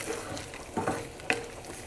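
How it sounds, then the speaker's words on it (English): Bacon bits for carbonara fry in a pan with a faint, steady sizzle and a couple of soft stirring scrapes, heard alone and quiet. "our bacon bits are cooking up nicely"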